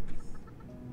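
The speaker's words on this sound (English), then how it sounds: "That chicken is still out here somewhere, terrifying me." A chicken in the video game Fallout 76 clucking in a quick run of short, close, fairly loud clucks, with no talk.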